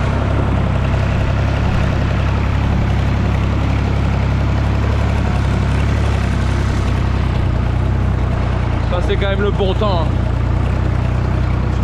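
A small farm tractor or similar engine idles steadily and loudly close by in a plastic greenhouse being prepared for salad planting, a constant low rumble throughout while someone talks over it.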